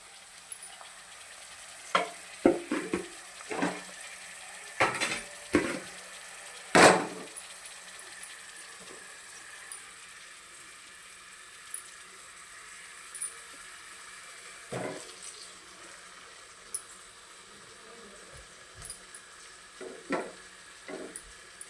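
Stuffed brinjal is lowered into hot oil, giving a steady low sizzle broken by sporadic clinks and scraping knocks, with one sharp clatter early on, then fainter stirring sounds.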